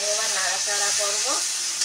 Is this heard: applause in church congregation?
no